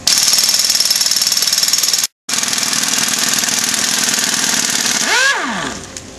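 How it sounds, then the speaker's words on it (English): A power tool drives a 13mm socket to loosen the center bolt of an IRP triple disc motorcycle clutch, giving a loud, steady rattling hammer for about five seconds with one brief gap, then winding down and stopping. "Remove the center bolt with a 13mm socket."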